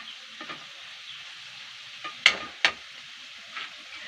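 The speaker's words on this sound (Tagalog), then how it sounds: "Cooking." Food fries in a pan at home with a steady soft sizzle, broken by a few sharp clinks and scrapes of stirring, close and fairly quiet with no voices.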